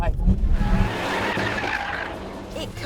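A Renault Megane Renaultsport 250 Cup corners hard at speed, its tires squealing and skidding under a strained engine drone, loud at first and then easing slightly.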